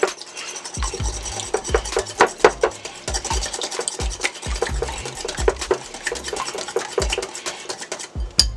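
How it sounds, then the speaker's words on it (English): Two eggs beaten in a bowl, rapid irregular clinks and scrapes of the utensil against the bowl, close up and continuous with no talking. "I got my 2 eggs in a bowl here, and I'm just going to mix these up."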